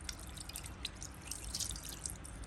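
Water drips and trickles steadily off a Lakshmi idol as it is rinsed, a close, continuous patter of small splashes with no voices.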